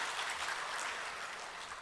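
A church congregation applauds during a worship service, a soft, even patter of many hands clapping for about two seconds, heard alone without talk.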